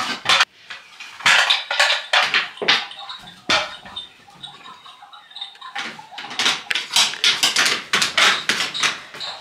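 A child making dinner sets off loud, close clattering of dishes and cutlery, with irregular bursts of clinks and knocks, a short quieter pause midway, then more rapid rattling; no one talks.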